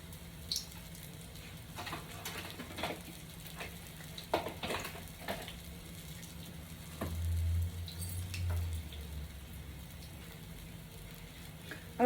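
Shrimp and conch fritters fry in hot grease with a faint, steady sizzle, marked by scattered soft clicks and knocks and a low rumbling stretch near the end.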